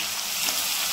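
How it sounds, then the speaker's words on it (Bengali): Spiny gourd (kakrol) pieces frying in oil over low heat give a steady, close hiss of sizzling that holds evenly through the moment with no talk. "এখন কাঁকরোলটাকে ভেজে নেব।"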